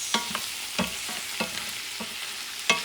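A spoon stirs sofrito aromatics sizzling in a cooking pot, with scraping strokes at an uneven rhythm over a steady frying hiss, close and alone.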